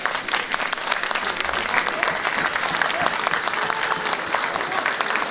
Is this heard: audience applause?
yes